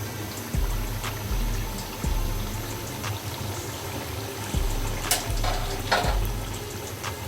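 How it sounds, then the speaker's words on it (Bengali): Hot water pours into a pot of braising beef rezala, a steady low rush with faint sizzling and a few sharp clinks, close and alone. "কষানোর জন্য 1 কাপের একটু বেশি পানি অ্যাড করেছি।"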